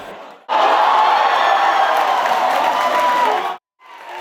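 A packed Seoul pub crowd watching the Korea-Brazil football match on a big screen erupts in loud cheers and whoops, a sustained roar that starts abruptly, holds for about three seconds, then cuts off.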